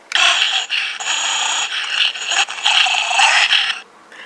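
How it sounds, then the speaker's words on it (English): A plush toy gives off a steady, raspy electronic purring with a pulsing buzz, close by, lasting about four seconds before cutting off. "he makes a little purring sound"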